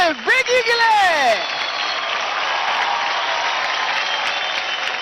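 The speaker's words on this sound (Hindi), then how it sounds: "जोरदार तालियां हो जाए विकी के लिए" A studio audience at a televised dance competition applauds for a dancer, steady clapping continuing for several seconds after a sliding musical sting and brief shouted voices at the start.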